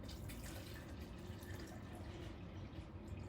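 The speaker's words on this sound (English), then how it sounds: "You put 8 to 12 ounces of water into your shaker/cup." Water pours into a plastic protein shaker cup as a steady, close trickle, low in level and lasting a few seconds, with no talking.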